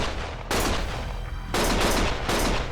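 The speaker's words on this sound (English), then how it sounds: "Stop shooting!" Bursts of rapid gunfire in the action game Lost Judgment, loud close volleys that start, break off for about a second, then resume in two more dense bursts.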